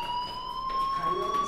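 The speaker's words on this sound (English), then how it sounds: "do you hear that fire alarm? That means you should be outside." A school fire alarm in the video game Life is Strange rings as a steady, loud electronic tone that runs unbroken through the whole moment.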